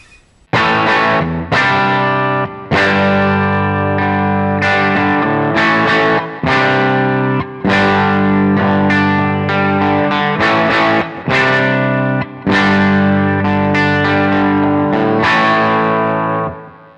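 Distorted chords on a Gibson Gary Moore BFG electric guitar, bridge pickup, strummed in bursts with brief pauses between them, bright and biting, loud and close, with no voices.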